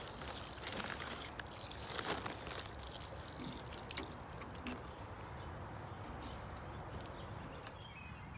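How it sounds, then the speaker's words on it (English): Water poured onto potting mix in a potato grow bag, a continuous soft splashing and trickling soak with scattered drips, steady and close throughout, birds faint in the background. "Just water it. You just want to soak it well."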